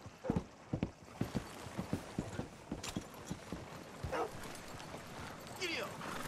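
Horse hooves clip-clop in a rapid galloping rhythm within the Western open-world game Red Dead Redemption II, sounding close and fairly loud, with brief voice sounds and a dog-like yelp mixed in.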